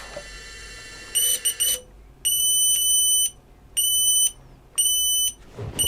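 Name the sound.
FPV racing drone beeping lost model alarm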